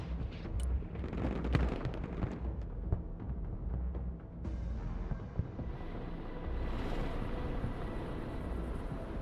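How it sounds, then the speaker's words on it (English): Rocket artillery from an MLRS launcher fires in a Broken Arrow war game, a dense rumbling barrage of sharp blasts and booms that swells and rolls on loudly for several seconds without any talking. "MLRS ready to fire."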